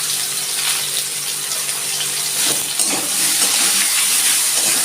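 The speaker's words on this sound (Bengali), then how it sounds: "আমি আঁচটা কম করে আলুটা আস্তে আস্তে করে আলুটা একটু লাল লাল করে ভেজে নিচ্ছি" Potatoes seasoned with salt and turmeric frying slowly in a pan over low heat, giving a steady close sizzle and hiss that carries on without a break and with no voices.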